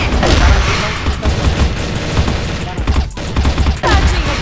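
Grenade blast in a first-person shooter game, heard as loud, continuous booming and crackling rumble with dense bursts of gunfire-like impacts and a short dip before the noise returns.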